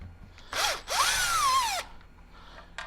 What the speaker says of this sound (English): I'll get the little screwdriver doobie and sort that out